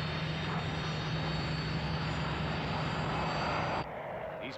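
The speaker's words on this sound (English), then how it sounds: "we have diverted these fighters and they are about to overfly the outskirts of this airfield" Fighter aircraft overflying the edge of an airfield, a loud steady engine roar with a low hum underneath that drops away sharply near the end.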